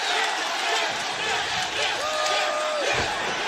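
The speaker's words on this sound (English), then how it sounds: "Listen to the crowd in this wonderful venue" Wrestling crowd in a packed venue roaring and cheering steadily throughout, a dense wash of voices with a commentator talking over it.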